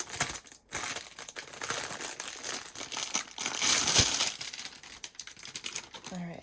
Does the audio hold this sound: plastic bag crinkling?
yes